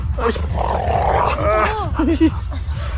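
Pet dogs making excited canine noises, with whiny yips and low growls mixed into steady human talk and a busy household background.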